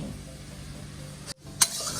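Sweet fish sauce simmering in a pan over medium heat, a soft continuous sizzle broken by a brief gap and a sharp clink near the end.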